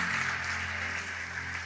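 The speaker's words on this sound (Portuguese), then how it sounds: "Você pode aplaudir pela vida dele que ele emprestava?" A church congregation breaks into applause during a sermon: a steady, dense wash of clapping that holds evenly over a low background hum.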